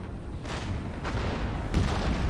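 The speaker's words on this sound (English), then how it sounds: "we can keep shooting at them with the cannons" Heavy cannon blasts boom several times in a row in the video game Empire: Total War, loud and close, rolling over a constant rumbling battle din.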